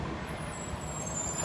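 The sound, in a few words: city bus with air brakes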